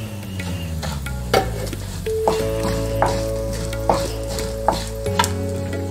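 Spices and curry leaves fry and get stirred in a pan for vangibath powder, with a steady close sizzle broken by several sharp scrapes and taps of the spoon, no talk.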